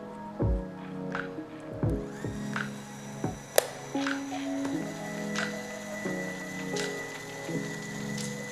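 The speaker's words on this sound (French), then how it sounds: "actionner la machine sur ce mode-ci, celui-ci, qui va permettre de claquer la cartouche et de commencer à mélanger la résine" A Hilti SafeSet anchoring tool bursts a resin cartridge and churns the resin, giving a near, uneven mechanical whir with clicks and knocks and one sharp snap partway through.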